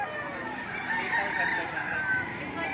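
Chickens crowing and clucking at a live poultry auction in Padre Garcia, Batangas, a steady dense chorus of roosters and hens close by, with a seller's voice calling out under the birds.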